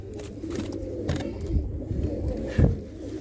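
Pigeons cooing inside a loft in Ludhiana, low rolling coos that rise and fall through the whole stretch at moderate level, with a louder coo swelling near the end.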